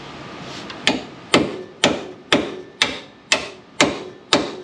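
Rubber hammer tapping a bolt through a radius arm bushing on a Range Rover Classic, eight sharp, evenly spaced blows about half a second apart, each ringing briefly before the next.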